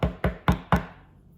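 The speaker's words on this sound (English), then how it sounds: "Mr. Spivey knocked loudly." Four firm knocks in quick succession, close and distinct, the last ones slightly spaced, then quiet, like a fist rapping loudly on a wooden door.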